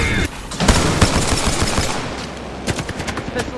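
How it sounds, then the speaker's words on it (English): Video game gunfire comes as a loud, rapid burst of shots that rattles on for several seconds, with a few more sharp shots near the end. "Opening fire on the enemy."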